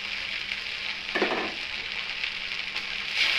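Paneer hitting biryani rice as it fries in a pan gives a steady close sizzle, with a brief burst of stirring and scraping partway through.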